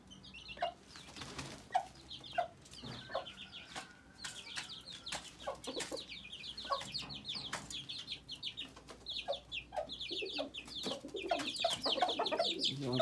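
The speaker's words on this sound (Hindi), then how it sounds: "देखें ये हमारा मुर्गा है" Chickens cluck repeatedly around a backyard hen and pigeon setup, a rooster among them, with rustling and scattered bird calls throughout; no voices.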